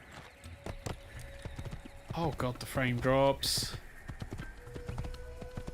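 Rhythmic clip-clop of a horse's hooves in the video game Assassin's Creed, steady trotting beats running throughout, with a voice talking over them midway.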